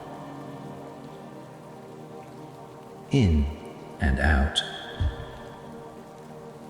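Soft, steady rainfall pattering on surfaces along a walking path, an even background wash beneath a calm voice, with a few closer louder drops or thuds midway.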